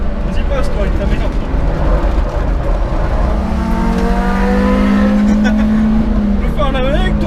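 A 110 hp Citroën Xsara races around a track with dirt run-offs, its engine loud and close, pulling steady rising and falling revs through the whole stretch with a broad roar underneath.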